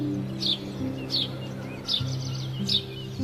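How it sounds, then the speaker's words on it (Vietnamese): A sparrow chirps four short, bright, evenly spaced times, faint and brief against steady background music. "Sparrow."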